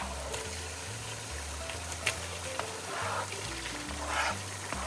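Lamb meat sizzling as it fries with onions in rendered lamb tail fat for plov, a steady close crackle and hiss with a few stirring scrapes and no talk.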